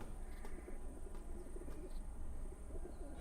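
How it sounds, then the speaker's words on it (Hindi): Messenger pigeons coo softly and repeatedly over a steady low background rumble, with a few faint chirps and no talking. "ये पैगाम रसाने वाले कबूतर हैं।"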